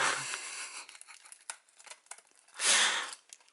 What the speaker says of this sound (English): All you have to do is rip the plastic